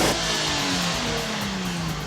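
A Porsche sports car engine revving on a race track, a loud close sustained tone climbing in pitch, with no talk over it.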